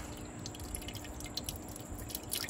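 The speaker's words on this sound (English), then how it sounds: "Dripping down in there, it's kind of cool." Faint, irregular drips of water falling into a hydroponic grow tower reservoir, scattered over a steady low pump hum, with a small cluster of drips near the end.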